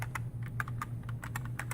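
Rapid keystrokes on a slightly sticking computer keyboard as a password is typed, a quick uneven run of close, crisp clicks over a steady low hum.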